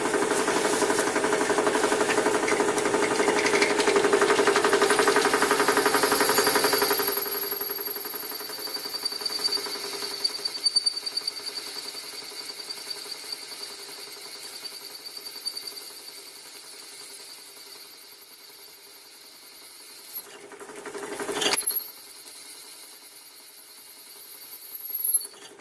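A drill whines steadily as it bores into 7075 aluminium without a pilot hole, a high-pitched tone sustained over a low mechanical hum, briefly stopping and then resuming.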